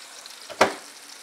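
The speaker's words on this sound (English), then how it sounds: "it'll take about 20 minutes to cook inside the frying pan" Food frying in a frying pan makes a steady, soft sizzle, with one brief, louder hissing burst in the middle.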